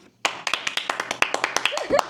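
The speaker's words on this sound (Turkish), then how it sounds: "Kocam bir alkışlayalım" Small group clapping at a Turkish couples' quiz game, about a dozen sharp, uneven claps close by, with a brief laugh-like voice near the end.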